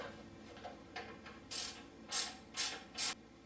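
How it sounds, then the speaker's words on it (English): A ratchet turning a Torx T30 bit to remove the clevis on a KTM 300 dirt bike clicks in several short bursts, faint at first and then four louder, evenly spaced pawl rattles close by. "You're going to use a Torx T30 and a ratchet to do that."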